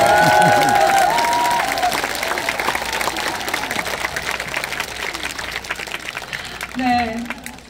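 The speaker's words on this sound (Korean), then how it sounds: "네 많이 박수 많이 쳐주셔도 좋은데" Festival audience applauding a singer on an outdoor stage in Yeongwol, steady dense clapping that slowly thins, with a voice and sustained tones running over it early on and a brief amplified sound near the end.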